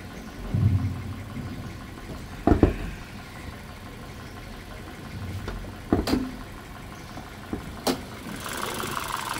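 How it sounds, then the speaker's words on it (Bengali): A 2014 Honda Vezel Mugen with a 1500cc engine idling, a low steady hum held throughout, broken by a few louder clunks and knocks from nearby handling. "আসুন আমরা একটু গাড়িটির ইঞ্জিন পারফরমেন্সটা একটু দেখে আসি।"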